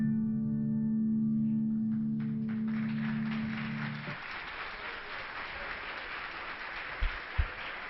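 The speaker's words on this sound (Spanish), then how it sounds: "Verdaderamente un gran aplauso por nuestras madres" Audience applause swells in after a sustained musical tone fades, a broad even patter of clapping from a crowd in a reverberant hall, moderately loud, with a couple of thumps near the end.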